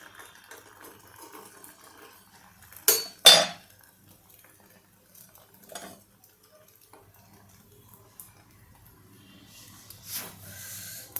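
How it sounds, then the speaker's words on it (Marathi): A rumali roti is flipped on a hot tawa with a quick pair of metallic clinks and clatter, then near silence with faint kitchen rustle and a light scrape toward the end. "परत याला आपण पलटवून घेऊया."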